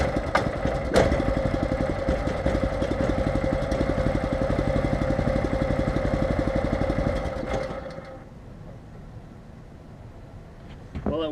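A Predator small gas engine runs in the cold with a loud, rapid, steady chugging that holds for several seconds and then cuts out abruptly, leaving a faint low hum.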